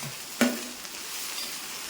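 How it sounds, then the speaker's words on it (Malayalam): Elephant foot yam stalks and leaves tumble into a hot pan with one brief thud, and a bright, even sizzle carries on steadily afterward. "നമ്മൾ നമ്മുടെ ചേനത്തണ്ടും ചേനയിലും എല്ലാം കൂടെ അങ്ങോട്ട് ഇട്ട് കൊടുക്കുവാണ്"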